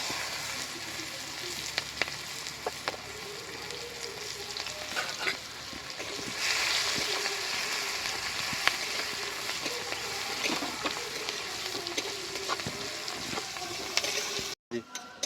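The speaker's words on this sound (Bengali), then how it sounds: "আমি এখন পেঁয়াজটা ভেজে নেব" Chopped onions fry in a pan with a continuous crackling sizzle, broken by repeated stirring scrapes and spatula taps, louder partway through, before a brief cutoff near the end.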